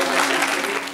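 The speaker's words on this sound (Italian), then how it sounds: "vorrei che anche i ragazzi facessero un applauso a tutte." Students applaud together at a school gathering, a brief, steady burst of clapping from a crowd.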